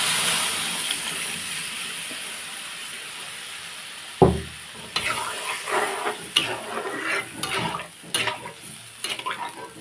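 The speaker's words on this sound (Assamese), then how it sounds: "ইয়াতে মই ফেলে দিম দালিখিনি" Dal drops into a hot pan with a sudden loud sizzling burst, followed by a run of close, uneven stirring scrapes over a steady frying hiss.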